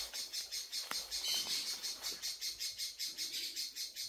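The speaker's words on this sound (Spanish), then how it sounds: "Aquí se escuchan más pájaros que en la casa." Birds sing outdoors in a brushy, overgrown field, a rapid, regularly pulsing high chirping that repeats several times per second, moderately close and steady, with no talk.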